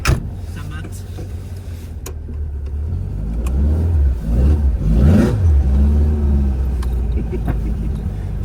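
Volkswagen Beetle with a 2.2-litre engine revving while driving, the engine note rising and falling in a couple of swells over a steady road rumble, with people talking over it.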